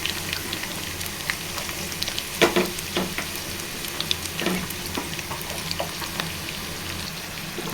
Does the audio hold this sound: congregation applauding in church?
no